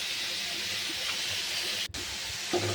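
Lentil and mustard-greens fritters (bora) dropped into a hot pan give a steady broad hiss of steam and sizzling oil, continuous and close, with a brief gap near the end before the sizzle swells again.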